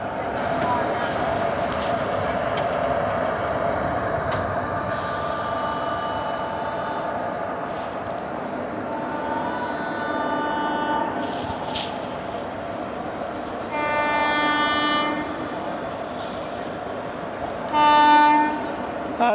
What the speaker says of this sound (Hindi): चलो क्रॉसिंग वाली ट्रेन भी बहुत जल्दी आ गई